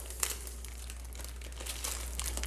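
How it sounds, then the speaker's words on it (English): A plastic Ziploc bag is opened in a kitchen, giving faint, soft crinkling and rustling with a few small crackles, quiet and close, with no voices. "we're going to take a plastic bag,"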